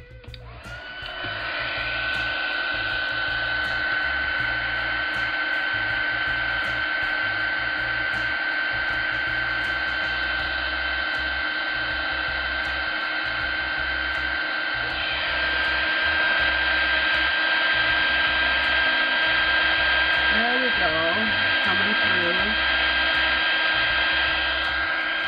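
A heat gun blows hot air steadily over a handmade greeting card, a continuous close whirring drone with a high fan whine that holds for the full length, briefly shifting pitch partway through.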